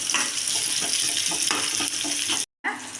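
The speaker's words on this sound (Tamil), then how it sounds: "வெங்காயம் தக்காளி நல்லா வணங்கிட்டுங்க." Onions and tomatoes sizzle in a pan, a dense close frying hiss with stirring scrapes, broken by a brief silent gap near the end.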